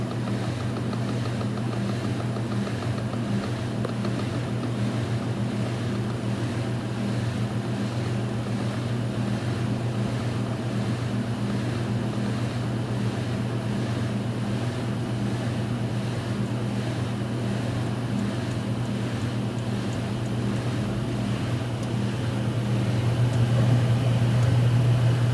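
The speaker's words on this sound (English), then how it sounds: "Anyway, back to the washers. This one is building up speed now." A washing machine spinning up to speed, a steady low mechanical hum and whir that holds evenly and swells slightly louder near the end, with no talking.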